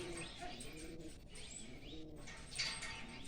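A pigeon coos softly in a low, repeated rolling murmur, faint and close, with light background noise and no talk.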